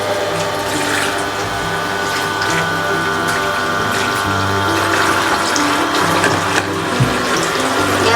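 Water runs from a toy kitchen sink faucet with a recirculating pump, giving a steady mechanical whir and buzzing hum with trickling water layered over it, close and continuous.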